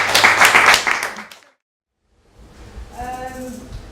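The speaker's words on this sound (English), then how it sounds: "We give her a round of applause." Conference applause for a speaker on the gig economy rises loud and then fades away to silence within about a second and a half, after which a voice begins speaking.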